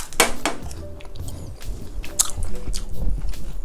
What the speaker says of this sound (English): You get that crunch from the french fry.